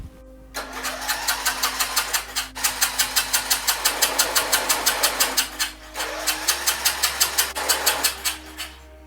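A Yard Machine lawn mower that has sat unused for years is cranked over without catching, a fast rhythmic chugging of compression strokes in three loud bursts separated by brief pauses, close by.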